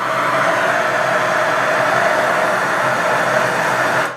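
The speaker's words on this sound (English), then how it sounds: "So here's this guy, the Searzall." A Searzall torch attachment sears a dry-aged steak with a loud, steady, hissing roar that holds for about four seconds and then cuts off.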